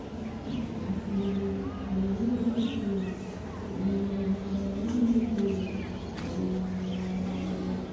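Female pigeons for sale cooing softly in a low, repeated rolling murmur, under a steady hum of background noise with faint traffic and other birds.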